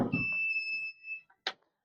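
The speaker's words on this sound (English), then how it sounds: "if you want to make the buzzer silent so that it doesn't create any disturbance" A battery charger's buzzer sounds a single steady high-pitched electronic tone for about a second, then a short click-like noise follows after a brief pause.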